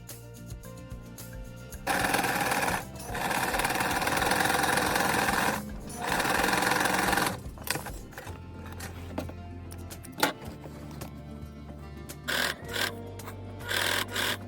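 A sewing machine stitches around a pants waist in several bursts of steady, fast mechanical whirring. Short pauses separate the runs, and a low hum shifts pitch near the end.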